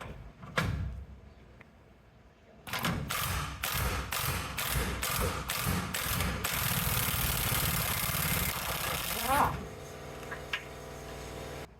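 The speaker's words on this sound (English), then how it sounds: "I'm gonna use a ratcheting socket to loosen it the rest of the way" A ratcheting socket loosening a rear bumper bolt on a 1994 Chevy K1500 truck, heard as a quick series of loud repeated ratchet clicks followed by steadier mechanical whirring, close up with no talk.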